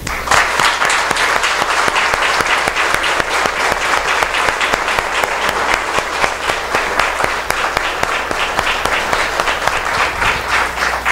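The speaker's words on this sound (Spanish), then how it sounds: "yo les invito para que le demos a nuestro obispo, Monseñor José Benedicto Moscoso Miranda, un aplauso de bienvenida" A church congregation claps in welcome for Bishop José Benedicto Moscoso Miranda at Mass, a dense, steady roar of many hands that stays loud and even for the whole stretch, with no voices above it.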